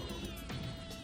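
Bees buzzing in a Halloween-themed video game, a faint, steady insect drone that hums continuously and quietly throughout.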